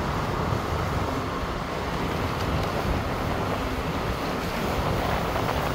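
Wind blows steadily at Barak Beach in Zhubei, Taiwan, as ocean waves wash in, a constant broadband rush that stays at one loud level for the whole stretch, with no voices.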